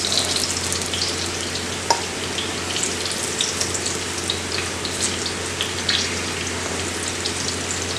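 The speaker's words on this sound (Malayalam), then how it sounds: "നമ്മുടെ മീൻ ഫ്രൈ ആയിട്ടുണ്ട്." Fish pieces frying in a pan of hot oil for Malabar fish biryani, a steady close sizzle with light crackles and pops throughout.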